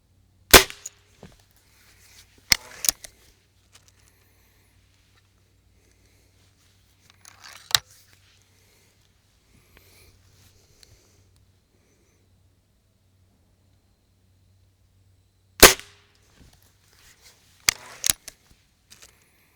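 A budget spring-powered air rifle fired at a target 25 yards away gives single sharp cracks spaced several seconds apart, some followed by a faint distant tick, with quiet between them.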